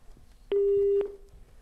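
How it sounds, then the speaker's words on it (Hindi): A telephone call drops and a single sustained electronic tone sounds for about half a second, bracketed by clicks and standing out clearly over a quiet line. "लगता है इनका फ़ोन जो है डिस्कनेक्ट हो गया है"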